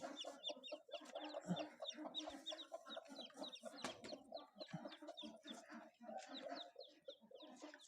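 A brooding hen with her hatched chicks clucks in repeated short bursts close by, mixed with high chick peeps and other fowl calls in a busy farmyard.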